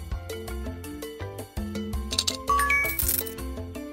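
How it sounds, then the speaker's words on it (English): In a mobile game, a run of hard clinks and clatters as ice cubes tumble into a drink glass, ending in a rising sparkly chime; close and fairly busy, no voices. "And drop in some ice cubes."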